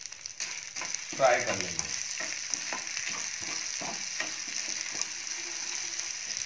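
Washed urad dal and about three tablespoons of chana frying in hot oil for dal wale baingan, a steady close sizzle with scraping stir strokes; a voice speaks briefly at the start.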